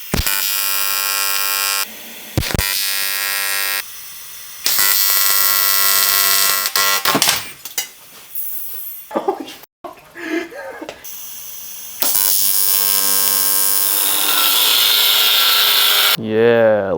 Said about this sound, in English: So let's clean these and then start welding.